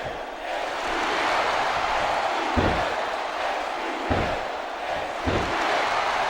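A capacity arena crowd in the WWE SmackDown vs. Raw 2008 wrestling game on PS2 roars and chants in a steady wash, with rhythmic bursts and thumps breaking through.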